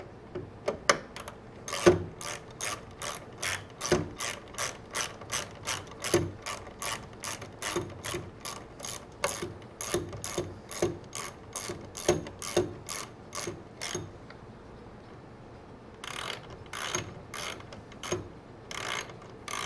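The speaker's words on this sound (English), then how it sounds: "Then I'm going to put my nuts on here." A ratchet wrench clicks rapidly and rhythmically as nuts are tightened onto bolts while assembling a wooden deck chair, close and steady with a brief pause before a final few strokes.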